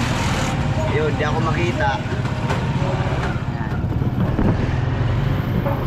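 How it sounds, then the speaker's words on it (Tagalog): Motorized tricycle engine droning steadily and close while riding along a road, with wind buffeting and someone talking over it throughout. "Nakasakay na tayo sa tricycle."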